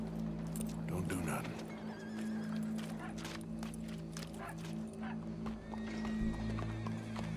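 Horse hooves clop and a horse whinnies in the Red Dead Redemption 2 video game, set over a constant low hum with faint background voices.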